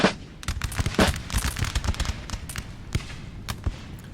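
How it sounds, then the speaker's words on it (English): Musket volley fire in the video game Napoleon Total War: crackling, ragged shots from massed infantry and militia, a dense rolling burst early on that thins into scattered pops, fairly loud and near. "Oh, guns going off there."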